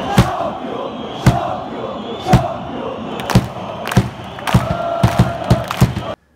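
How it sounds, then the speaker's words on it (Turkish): Football fans in packed stadium stands roar a loud, sustained chant, punctuated by regular heavy drum thumps that quicken toward the end before cutting off abruptly. "Güzel tezahürat."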